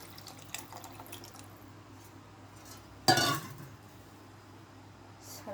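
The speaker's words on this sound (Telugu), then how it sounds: "సరిపడినంత నీళ్లు పోసుకోవాలి." Water splashes briefly into a pan of tamarind pulusu with okra, one short close pour in the middle of an otherwise quiet kitchen, with a few faint clinks and drips around it.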